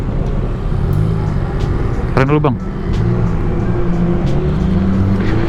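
Cars rumble past in dense Jakarta traffic, with a brief horn-like blare partway through and someone talking over the engine noise.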